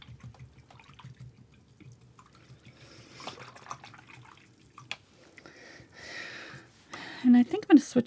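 A paintbrush is rinsed in a water container during an acrylic painting session, with soft swishing, dripping and splashing that grows louder toward the end, under quiet background talk.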